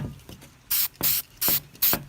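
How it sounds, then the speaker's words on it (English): Spray paint hisses onto a helmet in four short bursts of about a quarter second each, spaced evenly and heard close, with light handling noise between them. "I'm wiping off and spraying a little bit, then wiping off some more and spraying a little bit."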